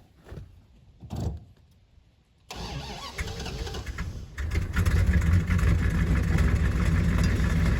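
A 1971 Dodge Charger Super Bee, long unused, cranks and fires up, then runs steadily with a loud, rough, close engine rumble after a couple of faint thumps.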